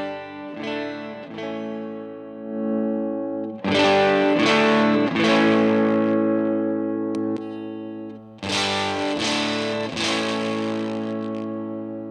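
Electric guitar through a Cachalote Console Preamp simulator pedal set to lower gain plays sustained, lightly driven chords in three strummed phrases, each left ringing, close and alone with no talking.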